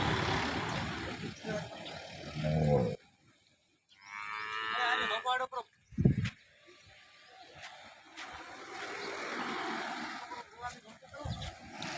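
A cow gives a long, loud moo between stretches of nearby talk, with a few low grunts and rustling around it.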